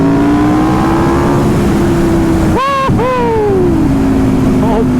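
An Aprilia RSV4 motorcycle engine with an aftermarket exhaust drones loudly and close. It climbs in two sharp revs near the end and then settles back to a steady, heavy rumble.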